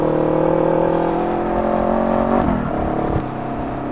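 Car engine held at high revs, around 6,000 RPM at about 120 km/h, on a highway drive north from Manila: a steady, loud engine drone with road roar and no pauses, briefly dipping and shifting near the end.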